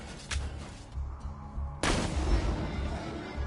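Gunfire from shooting enemies in a PS4 video game, a couple of sharp shots followed by a heavier blast that rumbles on, all fairly loud and without talk.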